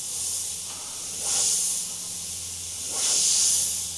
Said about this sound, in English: The paint's moving, spraying out nice and smoothly.